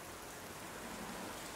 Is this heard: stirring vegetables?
no